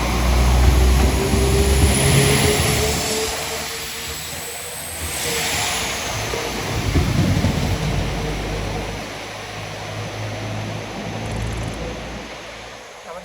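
Train 195116 pulls out of Preston station bound for Leeds, with a loud engine drone and a rising then falling whine over a hissing background that eases off as it departs.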